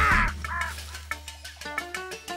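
Several harsh caws from a crow in a French animated adventure series, a loud call at the start followed by a run of shorter, evenly spaced cries over a low steady hum.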